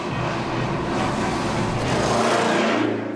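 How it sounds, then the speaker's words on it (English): A 1928 Alvis FWD front-wheel-drive car engine runs steadily and loudly close by, a continuous rumbling drone with no distinct backfire bangs standing out. "To the tune of backfiring, we journey back in time to the early days of the automobile."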